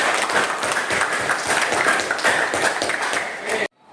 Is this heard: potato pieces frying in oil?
no